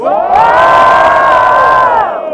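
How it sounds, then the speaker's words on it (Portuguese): A large crowd roars and cheers loudly and continuously for about two seconds, voices blending into one sustained shout before tapering off. "Muito barulho pra quem gostou das rimas dos Normax."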